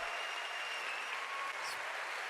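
Sustained applause from an audience at a 2018 Ubisoft E3 press conference, a dense, steady wash of clapping that holds evenly throughout without pause.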